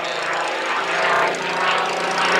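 Curtiss P-40 fighter with an Allison V-1710 piston engine flying at the Duxford Battle of Britain air show, a steady loud propeller drone holding throughout with a slight swell as it passes.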